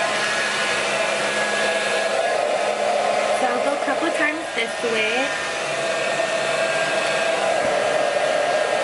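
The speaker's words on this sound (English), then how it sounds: "I'll try to face the blow dryer down" A handheld blow dryer runs continuously at close range as hair is dried over a round brush, a loud steady whoosh with brief dips as it moves, while someone speaks quietly under the noise.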